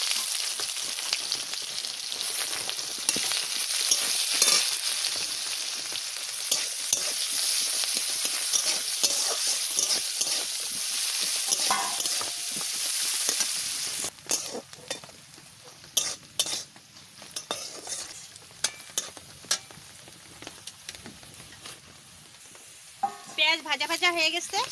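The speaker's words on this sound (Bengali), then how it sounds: "শুকনো লঙ্কা দিয়ে দিচ্ছি, পেঁয়াজ দিয়ে দিচ্ছি" Dried red chilies and onion fry in mustard-seeded oil for a carrot upma, a continuous loud sizzle with spoon clatter and scraping that grows sparser and choppier in the second half, with a voice speaking briefly near the end.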